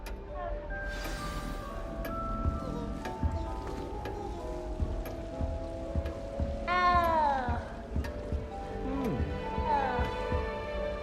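A cat meows several times in the Hogwarts Legacy video game, rising tonal cries at moderate volume over soft ambient game sound and a low throbbing, with speech around them.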